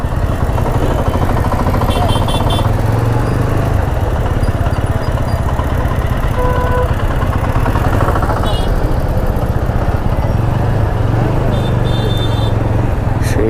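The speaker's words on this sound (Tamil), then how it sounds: "சரியான கும்பல் சரியான டிராஃபிக்" Heavy city traffic in Coimbatore, heard from an Apache RTR 200 motorcycle, forms a loud, steady engine-and-road roar with passing vehicles and occasional horn blips throughout, while a rider talks over it.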